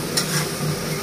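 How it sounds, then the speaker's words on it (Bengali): Onion and garlic fry together in a pan, a soft, steady sizzle with a faint stir at the start, brief and close without any talk. "পেঁয়াজ রসুন একখানে ভালো করে ভাজে"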